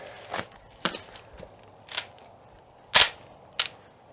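Bark cracking and popping off a wooden self bow as it is flexed in a test bend on the tiller: sharp, loud snaps scattered irregularly, about six of them, the loudest near the end, with no talking.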